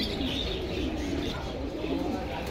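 Pigeons, including racer birds, cooing steadily at a pigeon market stall in Jinjira Bazar, Keraniganj, Dhaka, a continuous low murmur of many birds with scattered chirps, fairly close and without clear talk.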